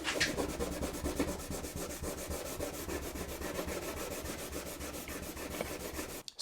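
A Fibertex abrasive pad is rubbed back and forth across a Jones Frontier snowboard base, giving fast, regular scrubbing strokes, close and steady, for several seconds before stopping abruptly.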